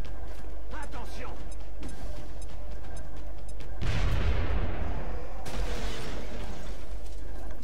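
A grenade blast in the strategy game XCOM: Enemy Within erupts mid-clip as a deep booming crash with rumbling debris, followed by a second sharp burst, over game background sounds and faint talk.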